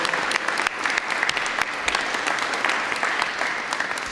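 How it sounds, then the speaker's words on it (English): At a Brooklyn Hero of the Month ceremony, an audience gives transit workers a warm round of applause, dense, crisp clapping from many hands that holds steady and loud throughout. "round of applause."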